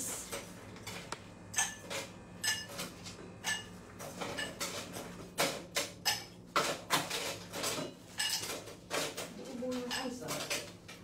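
Ice cubes clatter into a glass while a cappuccino drink is made on a De'Longhi Eletta automatic machine, a run of sharp close clinks and knocks in irregular bursts, with a voice speaking softly over them.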